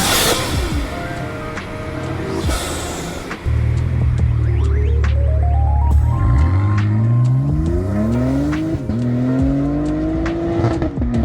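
A BMW M3 G81 Touring fitted with an Active Autoworks single mid pipe and a Remus back section revs hard, building through several rising sweeps with sharp pops between them, loud and close with no talking.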